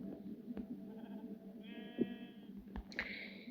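A pink sheep in the video game Minecraft bleats twice, each call a short, fairly loud nasal cry over a steady low in-game background hum.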